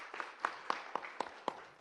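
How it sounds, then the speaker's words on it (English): A small audience claps at a summit panel, sparse and quiet, with about six distinct claps spaced evenly rather than a full ovation. "A round of applause for her."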